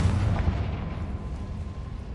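Confringo fire spell exploding in the video game Hogwarts Legacy, a loud, dense boom with a rumbling low-end tail that fades over about two seconds.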